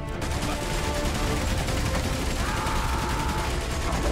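Sustained gunfire in the First World War video game Valiant Hearts: The Great War, a dense, continuous barrage of shots at steady loudness throughout with no clear pauses.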